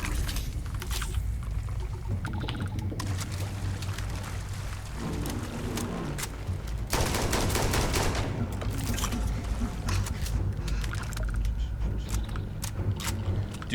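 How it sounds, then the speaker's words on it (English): Hip-fired weapons in the video game Starfield: rapid, dense automatic gunfire crackling continuously for over ten seconds, with a louder, heavier stretch in the second half and mechanical clatter mixed in. "I just want to hip fire."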